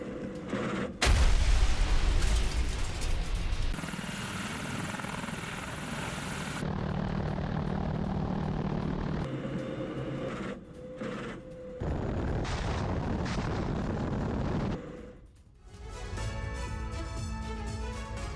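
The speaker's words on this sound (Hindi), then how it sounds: "रूस के Mi-28 हेलीकॉप्टर से हमले को अंजाम दिया गया है। यूक्रेनी चौकियों पर मिसाइलों से हमले किए गए हैं।" Russian Mi-28 attack helicopter with missile strikes: a sudden loud blast opens a continuous heavy rotor and engine roar that shifts in texture, with further thumps and a distant fluttering drone toward the end, and no talking.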